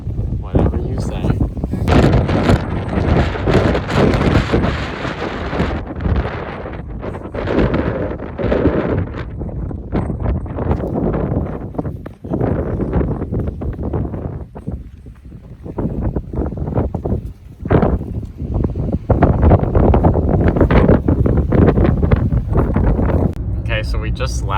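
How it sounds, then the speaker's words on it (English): Strong wind blasts across the Mesquite sand dunes in Death Valley, loud and continuous with heavy gusting buffeting the microphone throughout, along with rumbling bursts and voices talking in the background. "it was quite windy and quite difficult to see, and there's sand in your mouth"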